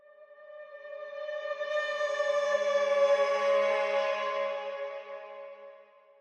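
A sustained, swelling violin tone rich in harmonics, played in reverse with reverb, rises gradually, peaks in the middle and fades away with a reverberant wash.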